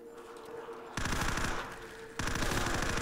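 Automatic gunfire blasting at zombies in Call of Duty custom zombies on The Tomb UGX mod map, two loud sustained bursts of rapid shots, the second starting after a short lull, over faint game ambience.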